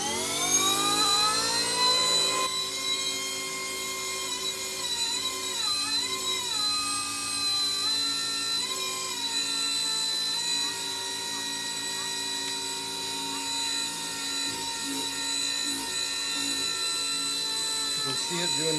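An RC MD500 helicopter's electric motor whines steadily as the throttle is raised, a high tonal hum that wavers and shifts in pitch, close and continuous without a break.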